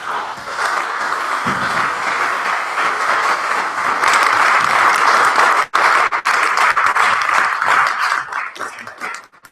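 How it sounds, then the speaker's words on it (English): An event audience gives a broad round of applause, a dense wash of clapping that holds steady and then fades out toward the end. "I want to give another round of applause and gratitude"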